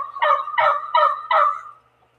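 Wild turkeys in a neighborhood gobbling, four quick rapid-fire gobble bursts in close succession, fairly near and clear with no talk.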